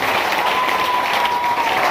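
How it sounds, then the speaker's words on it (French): A church congregation bursts into warm applause and acclamation, a dense, steady wash of clapping from a crowded room, loud and continuous with a faint sustained tone running beneath it. "Est-ce qu'on peut donner l'acclamation Seigneur?"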